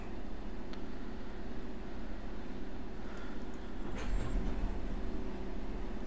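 A C-stock subway train in the video game World of Subways 3 produces a continuous low mechanical rumble and hum, with a brief heavier thump and rattle partway through and no talking.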